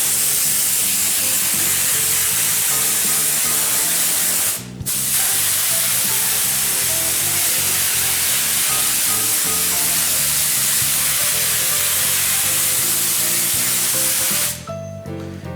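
Steady, close aerosol hiss of glue sprayed onto a car body panel during restoration, running continuously with two brief pauses and no talk.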